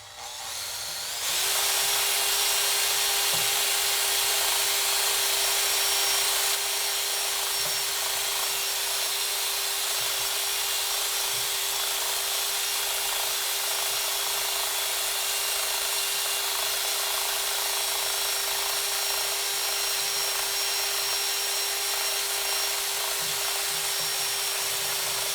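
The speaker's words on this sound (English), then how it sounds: "I'm going to use a wire wheel just to remove this old gasket." A wire wheel on a power tool grinds an old gasket off a lawn mower, spinning up quickly into a loud, harsh, continuous whirring scrape with a steady motor whine that carries on for over twenty seconds, close by.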